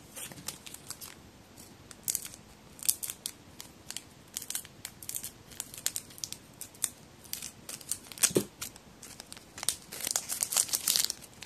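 A Chocobi snack sticker packet being opened up close: a steady run of sharp crinkles, small tearing bursts and plastic rustling, quiet and irregular, with no talking.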